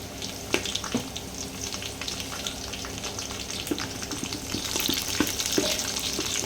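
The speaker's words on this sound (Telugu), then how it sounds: "ఓకే ఆనియన్ ఎర్రగా అయింది కదా ఇప్పుడు ఇందులో కరేపాకు యాడ్ చేసుకుందాం" Curry leaves hit browned onions frying in a pan, and a steady close sizzle swells louder toward the end, broken by scattered crackles and light stirring taps.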